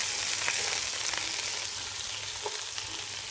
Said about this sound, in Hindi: इसको भी हम 2 मिनट फ्राई करेंगे।